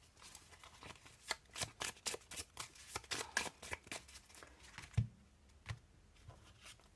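A deck of Dixit cards is shuffled by hand in quick, close, crisp riffling bursts lasting several seconds, with a soft thump partway through and no talking.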